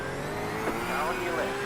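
A race car sweeps past close alongside during an endurance race at Sebring in Project 2, its engine note rising then falling under steady background engine drone and brief talk.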